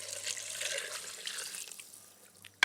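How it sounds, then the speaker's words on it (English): Warm water poured into a soup pot over garlic and flavourings, a steady splashing pour that gradually thins out, then ends with a sudden loud clunk. "And then in with our warm water."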